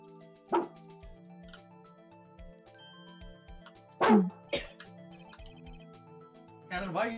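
A dog gives a few sharp barks and yips, spaced apart, close by, with quiet household sounds and light murmuring between them.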